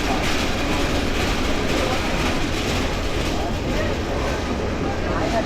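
A train moving at Chittagong railway station platform, arriving after a three-hour run from Feni, gives a steady loud rumble with faint rail clatter, and voices talk over it throughout.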